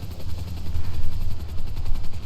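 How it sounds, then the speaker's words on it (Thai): A helicopter flying in GTA 5, a loud, steady low rotor thrum with rhythmic chopping pulses, close and continuous with no talk. "ผมไปส่งเครื่องบิน เอ้ยไม่ใช่ดิส่งเฮลิคอปเตอร์"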